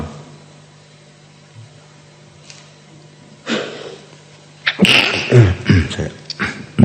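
A person sneezes loudly and close by after a quiet stretch with a low steady hum, followed by sniffs, snorts and more bursts.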